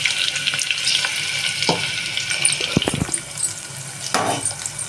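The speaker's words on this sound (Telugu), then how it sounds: "Next onions వేసేద్దామండి." Onions frying in a pan for mutton curry give a soft steady sizzle, broken by a few sharper clatters and stirring scrapes.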